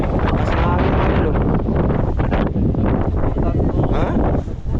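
Strong wind buffets the microphone on an island, a loud, steady roar that covers the whole clip without a break.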